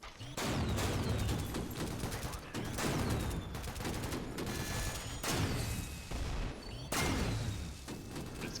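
Kaida nailgun fired in the shooter SYNTHETIK 2, heard as loud, steady, rapid bursts of sharp mechanical shots in three or four long volleys with brief gaps between them, and no talking.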